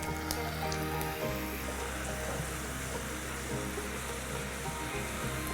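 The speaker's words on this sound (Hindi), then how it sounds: "अभी गरम तेल में वापस डालना है इसको क्रिस्पी करने के लिए।" Spiral-cut potato twisters frying in hot oil for a second crisping, a steady dense sizzle and bubbling that holds close and continuous throughout, with a low rumbling undertone and no talk.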